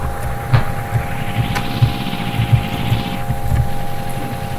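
An Audi's engine in a farming video game hums steadily while the car parks, with a continuous loud mid-low drone and faint periodic thumps and no talking.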